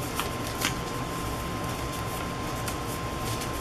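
Cut-out paper letters are shuffled together by hand, a steady dry rustling and flicking that runs continuously at close range with a few sharper crisp flicks and no talking.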